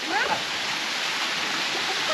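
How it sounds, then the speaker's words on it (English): A small warm waterfall at a hot spring in a gorge, splashing steadily at close range with a broad, continuous rush of falling water and no pause. "a little warm waterfall"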